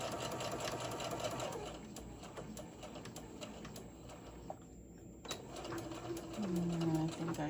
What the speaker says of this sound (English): I'm going to sew right down the edge